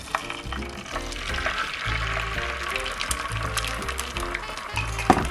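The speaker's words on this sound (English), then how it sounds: "now I'm going to pour in 2 beaten eggs." Two beaten eggs fry in browning butter on a Dash 8-inch griddle, making a steady, close sizzle and crackle that runs throughout at moderate loudness, with a little faint talk beneath.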